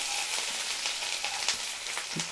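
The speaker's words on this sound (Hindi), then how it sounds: "मीडियम हाई फ्लेम पे हमें इसे फ्राई करना है" Garlic, ginger and capsicum hiss and crackle in hot oil over a medium-high flame, a steady close sizzle with small pops and a brief stir near the end.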